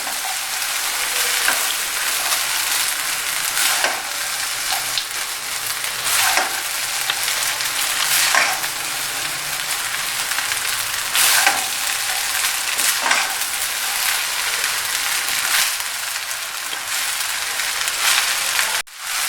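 Chicken fried rice is stir-fried over a high flame, making a continuous close sizzle broken by regular sharp scrapes and clatters of the spatula against the pan that recur every second or two throughout, with no voices.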